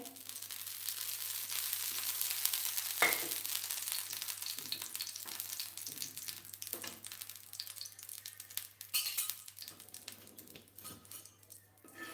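Cooking oil going into a pan to make uttapam, with a broad hissing sizzle that swells and fades over several seconds and a few light clinks of a utensil against the pan.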